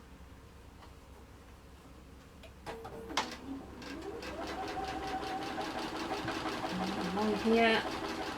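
A sewing machine runs steadily, stitching nested seams on a disappearing half-square four-patch quilt block. The motor's whirring hum builds after a quiet start and stays close and continuous beneath a person talking.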